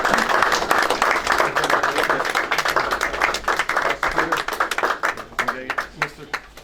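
People at a commissioner meeting clap during a plaque presentation, with dense clapping at first that breaks into sparser, distinct claps toward the end, and voices talking over it.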